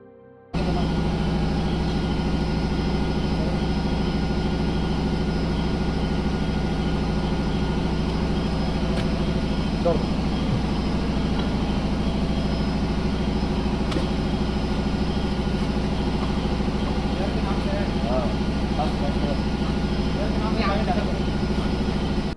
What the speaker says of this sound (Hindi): ये जो आपको बैकग्राउंड में मशीनों की आवाज़ सुनाई दे रही है